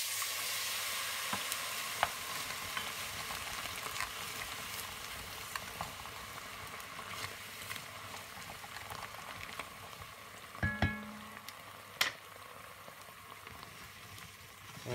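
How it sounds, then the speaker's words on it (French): Lamb in a hot pan deglazed with martini, a continuous loud sizzle and bubbling hiss with a few clinks and scrapes of utensils near the end, no talking. "On déglace avec notre martini."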